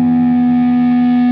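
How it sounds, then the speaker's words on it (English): Loud, sustained electric guitar feedback holding a single piercing tone with distorted harmonics, steady throughout. "To start the song, I just have some feedback open up,"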